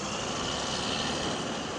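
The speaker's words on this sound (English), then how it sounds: "The cicadas. Yes, all along." Dense, steady buzzing drone of cicadas in Florida in July, continuous and even in loudness with no pauses.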